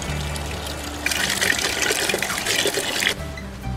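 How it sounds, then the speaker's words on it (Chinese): Blanched mushrooms get rinsed under running tap water, a splashing stream that starts abruptly and flows for about two seconds before stopping, with faint kitchen hum around it. "焯完了，洗一洗。"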